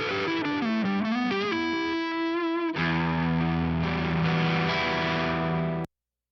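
A distorted electric guitar through a time delay pedal and a Soldano Astro 20 amp plays sustained notes with echoing repeats trailing behind, a thick wash of delayed tone that cuts off sharply at the end.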